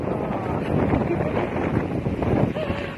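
Steady wind rushing and buffeting across a microphone, loud and continuous throughout, with a low rumble underneath.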